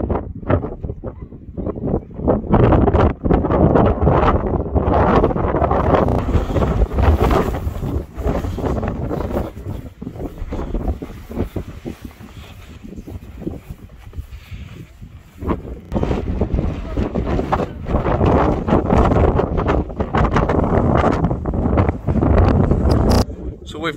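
Strong gusts buffet the microphone in heavy rumbling bursts on an exposed Peak District hilltop, with voices talking intermittently through the roar.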